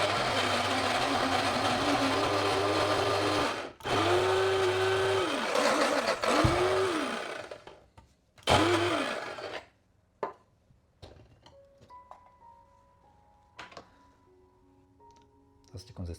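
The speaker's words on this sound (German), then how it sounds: "ich püriere das ganz fein" An electric blender purees a large onion with garlic cloves, a loud steady whirring drone that pulses and cuts out in short bursts before stopping, with a few knocks afterward and a voice speaking over it.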